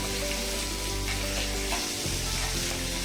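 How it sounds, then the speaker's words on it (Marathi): Onion and tomato fry together in hot oil, giving a steady, dense sizzle with occasional stirring scrapes, close and continuous for a restaurant-style paneer kaju masala curry. "टोमॅटोसुद्धा मऊ होईपर्यंत आपल्याला तेलामध्ये परतून घ्यायचा आहे."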